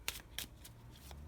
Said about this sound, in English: I'm shuffling the final card here